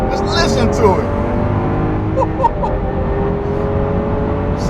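A Lamborghini Aventador SV's 6.5-liter V12 runs with a loud, steady drone and rising and falling revs, close by and continuous throughout.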